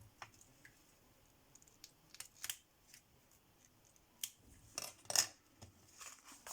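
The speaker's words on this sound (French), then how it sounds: "Où sont mes petits ciseaux? Voilà, c'est plus pratique." Small scissors snip through fabric roses for a handmade card, giving a few quiet, irregular close-up cuts and clicks with short gaps between them, and nobody speaks.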